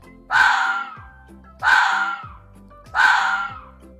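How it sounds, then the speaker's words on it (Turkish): Three evenly spaced fox calls, each a sharp, raspy bark-like cry that trails off, over a quiet musical background. "Tilkiler böyle ses çıkarır"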